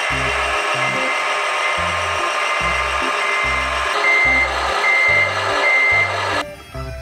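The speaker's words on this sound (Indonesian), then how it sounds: "ada truk molen." A toy cement mixer truck gives off a rapid, steady run of electronic reversing beeps, loud and close, that cut off near the end.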